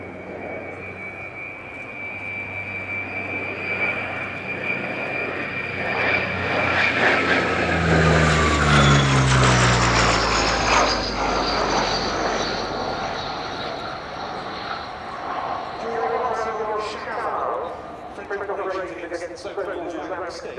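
A French Navy Atlantique 2 maritime patrol aircraft performs a flying display at the RIAT air show. Its turboprop drone swells loud as it passes close, the pitch sliding down, then fades into a distant hum, with a voice talking over it throughout.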